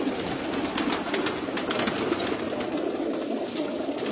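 Pigeons kept by a pigeon fancier coo steadily and softly throughout, with a few light clicks and rustles mixed in and no voices.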